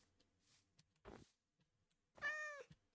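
A cat meows in Minecraft, a short, clear, tonal mew near the end after a couple of soft scuffs and quiet blips, otherwise near silence.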